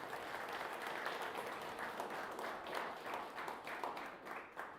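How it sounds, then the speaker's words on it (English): Steady applause from an audience at a fall high school sports player-of-the-year awards ceremony, dense clapping holding for several seconds, moderately distant and even, with no voices over it. "Now, one more round of applause for these ladies, if you could."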